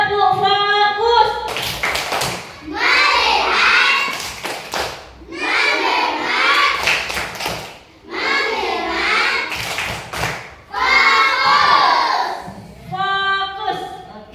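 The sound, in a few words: children doing a rhythmic clapping chant, tepuk fokus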